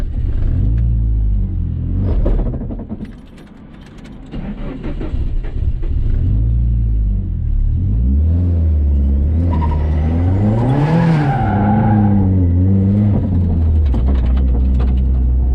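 A Nissan S14 lapping a race track on a testing day, its engine rumbling loud and close, with a dip as it lifts off, then rising revs that climb and fall through gear changes; no voices.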